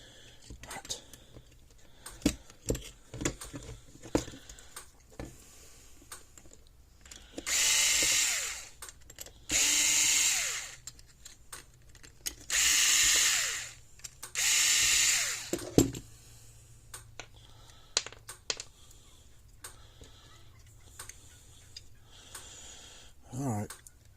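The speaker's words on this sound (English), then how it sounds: "So let's take these 4 screws off." A power drill removes screws from a Gallagher solar fence charger in four loud, sustained whirring bursts, with small handling clicks and knocks between them and a voice speaking at times.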